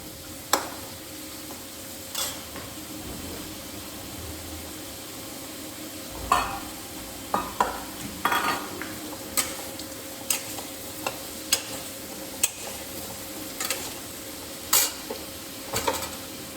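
Potatoes fry in oil with a steady low sizzle while a utensil stirs them, giving sparse sharp clicks and scrapes against the pan at irregular intervals, no speech.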